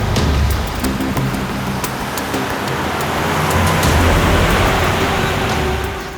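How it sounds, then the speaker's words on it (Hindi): A car approaching on a road, a loud continuous rumble of engine and tyre noise that swells toward the middle and then eases off, with no voices. "सर, गाड़ी की आवाज सुनी आपने?"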